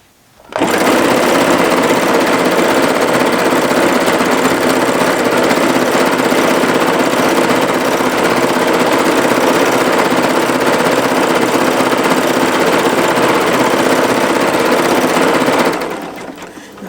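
A sewing machine runs continuously at high speed doing a stippling stitch on the back of a scrap quilt, a loud, steady, close mechanical whir that cuts off near the end.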